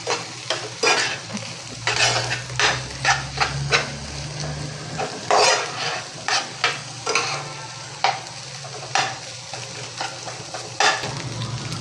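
Egg cooking in a pan over a high gas flame, an even sizzle punctuated by repeated scraping and clacking strokes of a spatula, close and fairly loud, without speech.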